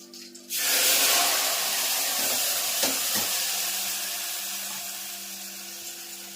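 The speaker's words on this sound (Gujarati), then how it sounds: "મસ્ત મજાનો વઘાર થઈ જશે" Sudden loud sizzle as spices drop into hot oil for tempering a bottle gourd curry, then a strong, steady frying hiss that slowly fades, with a faint clink of stirring.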